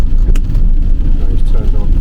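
A car rushes up close behind a delivery van in a bus lane with its lights off, its steady engine roar and road noise loud and continuous throughout, with talk running over it.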